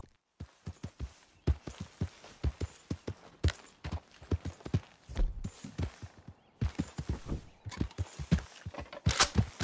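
A horse's hooves clip-clop steadily on hard ground in Red Dead Redemption, close and distinct, in an uneven trotting rhythm with occasional louder thumps.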